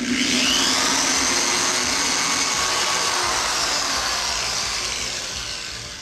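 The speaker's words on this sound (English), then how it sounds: "and we're going to drill all the way through" A steady, loud power drill whirs continuously through a coupler, holding a constant high-pitched grind that eases slightly toward the end.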